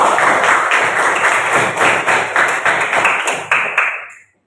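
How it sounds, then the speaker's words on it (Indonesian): Schoolchildren in a classroom clap together steadily for a few seconds, a dense patter of many hands, before the applause quickly dies away. "tepuk tangan buat kita semua"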